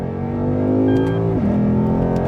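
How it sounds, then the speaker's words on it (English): Lexus IS F pulling hard in second gear, a loud steady engine tone climbing in pitch, dipping briefly at a gear change, then droning on close up. "If I put my foot down here in second gear, it doesn't do a whole lot."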